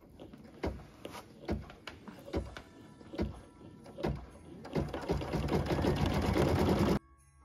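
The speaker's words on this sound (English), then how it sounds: "we're going to stitch the bow detail on the wreath" An embroidery machine stitches a bow detail in ruby thread on a Christmas wreath design, first in distinct rhythmic thumping bursts, then settling into a faster, denser continuous whir before stopping abruptly; close and moderately loud.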